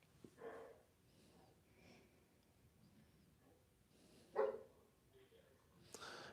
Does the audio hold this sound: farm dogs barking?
yes